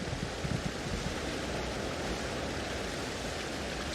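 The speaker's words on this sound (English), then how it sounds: "Ooh, waterfall." A waterfall in the video game Elder Scrolls Online rushes steadily, a dense, even hiss of falling water that fills the whole moment without pause.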